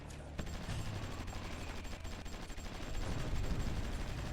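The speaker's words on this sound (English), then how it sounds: "now they're going to fall rather quickly with the elite forces firing on them" Sustained gunfire from elite forces in a strategy video game, a dense continuous crackle of rifle and machine-gun bursts that swells louder toward the end, with no voices over it.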